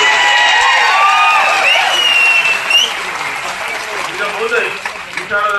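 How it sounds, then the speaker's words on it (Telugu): Audience applause at a JAC public meeting, loud sustained clapping from a large crowd with some cheers and whoops, tapering off toward the end. "మనమందరం కూడా వారికి ఒకసారి గట్టిగా చప్పట్లతో మన సంతోషం"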